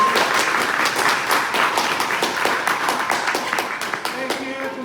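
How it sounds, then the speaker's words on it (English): An audience at an information session gives a round of applause: many hands clapping steadily and loudly, then gradually thinning toward the end. "If you can give one last round of applause."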